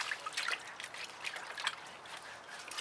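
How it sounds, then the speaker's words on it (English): Hands rinsed under a stream of very cold outdoor water after fluid-art paint pouring, giving a close, light trickling and dripping splash that runs steadily with small bursts. "I'm going to have a quick rinse"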